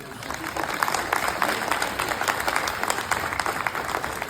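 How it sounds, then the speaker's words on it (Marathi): A crowd gives sustained, dense applause for a local Sindhudurg film team at a screening in Malvan, steady clapping filling the room with faint voices mixed in. "आपल्या सिंधुदुर्गातल्या या सगळ्या टीमसाठी जोरदार टाळ्या होऊ देत."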